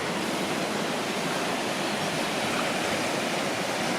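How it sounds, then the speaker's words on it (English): The Rosswood River, swollen after winter rain, rushes in a steady, loud, broadband roar of flowing water, continuous and close with no other sounds. "This river, which is called the Rosswood River, has been quite high for some time because of the bit of rain we've had this winter"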